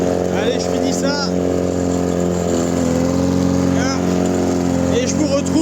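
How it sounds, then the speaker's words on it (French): A lawn mower engine drones steadily at close range, a constant rumbling hum with voices faintly audible over it. "Voilà les amis, on passe la tondeuse."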